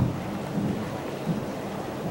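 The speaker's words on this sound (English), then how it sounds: "the thunder lasted for like 3 seconds and we lost power." Low rolling thunder rumbling during a summer storm with steady rain hiss, a couple of heavier swells in the rumble, no voices.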